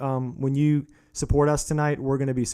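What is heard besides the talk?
No everyday noises stand out.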